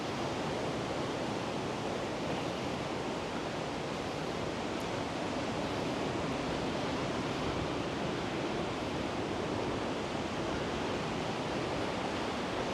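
Steady, dense wash of sea waves on the coast of Hanoman island, a constant broadband roar with no distinct breaks, close and fairly loud throughout, with no talking.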